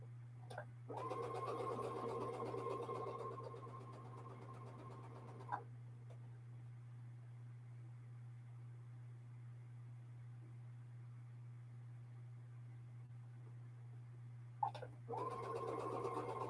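A sewing machine sews a quilt block in two bursts, a longer run at the start and a short one at the end, with a quiet stretch and a couple of sharp clicks in between, a steady low hum throughout.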